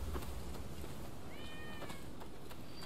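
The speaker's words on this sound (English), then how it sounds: "I hear a cat." A cat meows in the video game Rise of the Ronin, a single clear rising-falling meow in the middle, heard faintly over steady in-game ambient noise.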